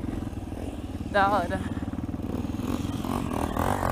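A dirt bike motorcycle is ridden, its engine thrumming in a close, steady, rapid pulse with slight revving, while someone speaks Portuguese over the noise.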